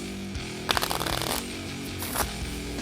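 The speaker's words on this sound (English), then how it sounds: "Give it one more shuffle." A deck of unsleeved Marvel Champions cards is riffle-shuffled twice in quick succession, crisp fluttering bursts close up over a faint steady hum.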